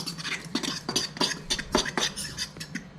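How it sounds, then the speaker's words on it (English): A fork mixing seasoned food in a bowl, quick irregular clinks and scrapes of metal against dish, close and fairly quiet. "Grab a fork and mix that up."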